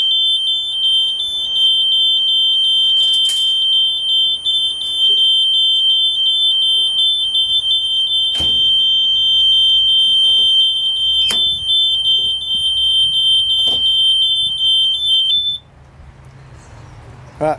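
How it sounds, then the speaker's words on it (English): A Hazero lithium battery cabinet's smoke alarm sounds a loud, continuous high-pitched electronic tone close by, with a few sharp clicks over it, and then stops abruptly near the end. "once the smoke is cleared, alarm will stop like that"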